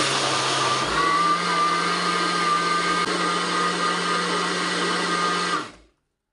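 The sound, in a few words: blender mixing strawberry hibiscus juice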